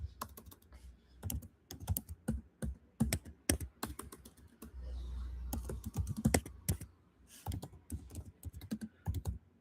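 Typing on a computer keyboard, clustered bursts of sharp key clicks with short pauses between, close and fairly loud, with a low hum under part of it.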